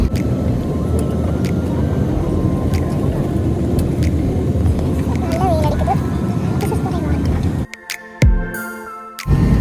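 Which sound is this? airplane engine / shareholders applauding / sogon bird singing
airplane engine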